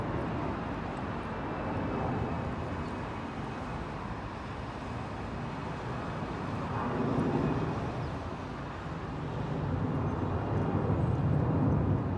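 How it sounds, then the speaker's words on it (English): A steady, broad roar from an A3A Sentry military aircraft flying low over a city, swelling and easing slightly as it passes, continuous with no speech. "An A3A Sentry caught flying low over this person's city."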